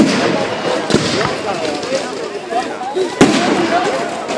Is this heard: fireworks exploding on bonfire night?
yes